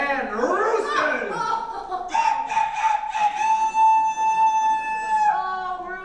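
A voice imitates a rooster crowing in a staged musical performance of Annie: a rising vocal sweep, then a long drawn-out, strongly pitched crow held for several seconds, loud and close.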